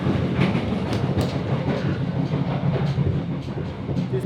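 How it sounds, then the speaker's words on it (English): Overnight train from Hanoi to Hue heard from inside a modern carriage, with a loud, constant rumble and rhythmic clatter of wheels on the rails, steady throughout. "This is one of the most modern trains we have been on, but also it is very, very noisy."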